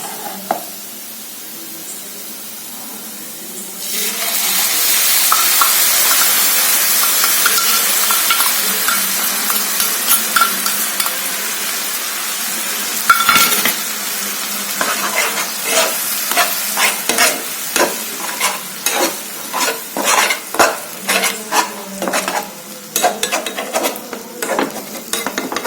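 Tomato puree hits a hot pan for Amritsari chole and bursts into a loud, steady sizzle, then stirring strokes make a rapid series of scrapes and clinks over continued frying, close and with no voices.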